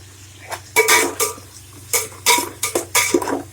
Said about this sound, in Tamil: வெங்காயத்தை குத்திட்டு நல்லா கிளறி கிளறி விட்டுக்கோங்க